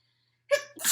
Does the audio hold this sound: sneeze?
yes